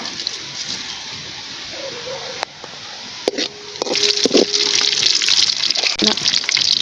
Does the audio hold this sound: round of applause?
no